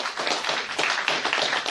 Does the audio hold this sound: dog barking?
no